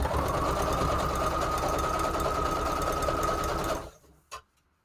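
A sewing machine stitches steadily through a fabric junk journal cover, a loud continuous whirring run of close stitching that stops abruptly near the end, followed by a single faint click.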